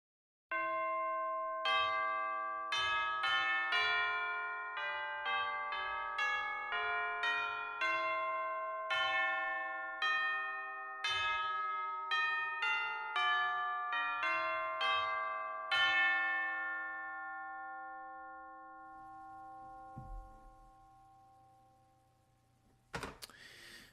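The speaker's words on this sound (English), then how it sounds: "Here are the Tubular Bells." Orchestral tubular bells from a sampled percussion library ring in a slow sequence of about twenty bright, overlapping strikes, each decaying with a long shimmering tail, alone and clear until the last notes fade out.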